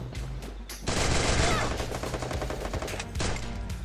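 An MP40 submachine gun in a shooting video game fires rapid bursts of automatic gunfire, loud and dense, with a short pause between bursts and faint game ambience before the first burst.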